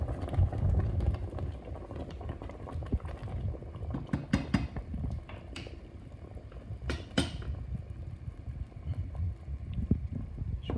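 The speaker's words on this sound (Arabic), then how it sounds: "ماء يغلي كما قلت لكم." Steady bubbling of water boiling in a pot for Tunisian mloukhia, a soft continuous rumble with occasional clicks and knocks of kitchen handling nearby.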